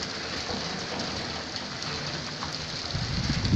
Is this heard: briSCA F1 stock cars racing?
no